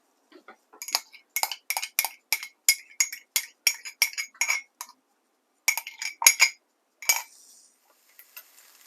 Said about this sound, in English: Grab a spoon and get the rest of that out